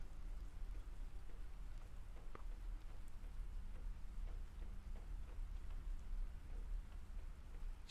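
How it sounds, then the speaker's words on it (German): Steady rain in the survival video game Planet Crafter, a soft, even hiss of falling water with a few faint droplet ticks, quiet and uninterrupted with no voices. "Hallo, lieber Regen."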